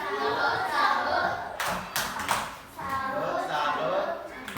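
Schoolchildren in a classroom clap in rhythm while chanting together, their sharp hand claps bursting out between the voiced phrases of the chant.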